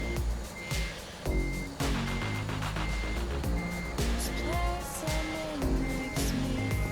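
A truck in American Truck Simulator backs in, its reversing alarm sounding as evenly spaced high beeps over a thick engine and traffic rumble, with faint voices in the background.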